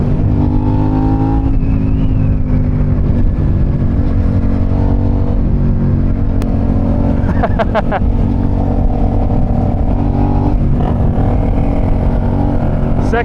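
Suzuki SV650 motorcycle pulling hard in second gear, its engine note loud and steady with rising harmonics throughout, mixed with constant wind rush and a few voices talking over it.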